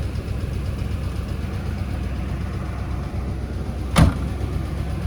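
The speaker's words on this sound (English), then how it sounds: "Door closes easy." A 1978 Chevrolet Corvette L48 door shuts once with a single short, solid thud near the end, close by, over a steady low rumble.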